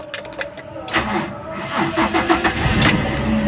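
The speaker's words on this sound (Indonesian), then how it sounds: "Kita coba nyalain nih." A 2003 Toyota Kijang Kapsul LGX engine cranks and catches, its starter grinding briefly before the motor settles into a rough, close-up idle; a voice is heard nearby.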